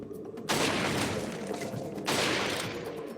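Semi-automatic rifle fire in the Resident Evil 4 VR video game, heard as two loud, sustained bursts of close, dense gunfire with a brief gap between them and no talking.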